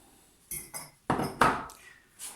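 Eggs beaten with a utensil in a bowl for kaak dough, a few separate clinks and scrapes spaced unevenly, close and fairly quiet.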